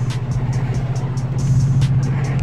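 A 2005 Subaru WRX with a hood scoop cruising, its engine giving a steady low drone from inside the car, punctuated by regular rhythmic thumps, loud and without talk.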